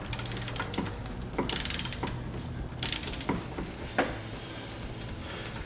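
Mechanic loosening the nut on a 1990 Nissan 300ZX Turbo power steering pump pulley with a tool braced through it: repeated ratcheting clicks and metallic clanks, close and moderately loud, with irregular rhythm.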